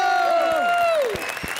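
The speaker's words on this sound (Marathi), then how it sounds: "जोरदार टाळ्यांनी स्वागत करूया सगळ्यांचे लाडके सुपरस्टार भरत जाधव" Applause welcomes Marathi superstar Bharat Jadhav onto a stage, a short burst of crowd clapping mixed under a loud descending musical sting.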